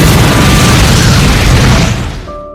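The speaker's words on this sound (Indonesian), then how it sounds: "Greer terlanjur menyalakan mesin itu dan yang terjadi Arctic Warrior meledak." The ship Arctic Warrior explodes in a film scene after its engine is started, producing a loud, sustained roaring blast that fades out.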